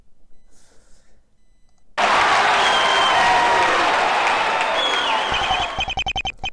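Loud, dense courtroom applause erupts in the video game Phoenix Wright: Conflict of Interest, a wash of clapping that holds for several seconds before giving way to rapid dialogue-text blips.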